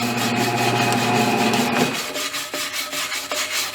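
Scrubbing and rubbing on the worn rim of a 1979 Dodge D300 truck wheel while working in bead sealer, a steady close broadband scraping that eases off into a few lighter rubs and small knocks, with no talking.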